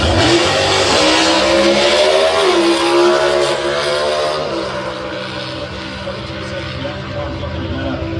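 A nitro drag racing car makes its run at Sydney Dragway, a loud, continuous high-pitched roar that shifts pitch partway through, then eases off slightly while staying strong to the end.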